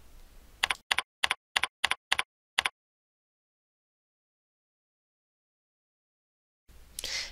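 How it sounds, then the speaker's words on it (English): Typing on a computer keyboard: seven short, crisp keystrokes tapped in quick succession, close and clear, followed by silence and then a burst of room noise. "I'm going to type in the word I want for my button"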